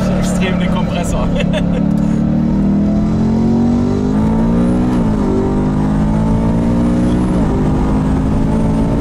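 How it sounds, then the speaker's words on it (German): A 700 hp G-Power supercharged BMW E92 M3 Coupé whines loudly and steadily from close range, the rising and falling supercharger tone layered over a constant engine drone as speed changes. "Man hört halt wirklich extrem den Kompressor."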